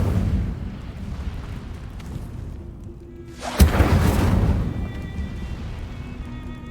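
Incendio fire spell cast in Hogwarts Legacy: a sudden whooshing burst of flame that flares loudly, then settles into a softer crackling rumble, with no voices.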